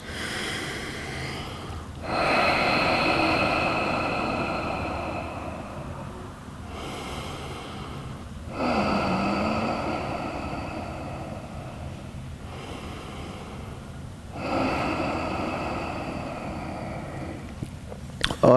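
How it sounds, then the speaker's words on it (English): Slow, deep breaths during wrist and ankle stretches for BJJ. Three long exhalations come several seconds apart, close and soft, with a brief spoken cue between them. "Three more breaths."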